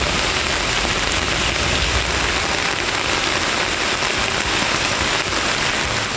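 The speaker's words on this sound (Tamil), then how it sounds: "ஈரோட்டில் பேருந்து நிலையம், வீரப்பன் சத்திரம், திண்டல் உள்ளிட்ட நகரின் பல்வேறு பகுதிகளில் கனமழை பெய்தது." Heavy rain pours across Erode town, including around the bus stand, in a constant dense hiss of drops striking surfaces, with no break from start to end.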